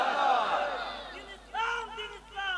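A crowd of men at an outdoor Islamic sermon gathering answers the preacher's takbir call with loud chanted shouts of Allahu Akbar, first one long swell, then a couple of shorter repeated calls.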